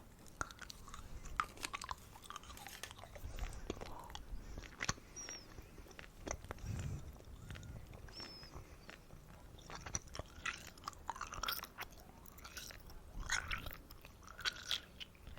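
Gum chewed close up with wet, squishy smacks and soft crunchy bites in a steady, irregular rhythm, quiet and intimate throughout, with no talking.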